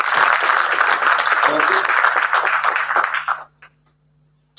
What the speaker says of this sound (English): Ladies and gentlemen, just give a good round of applause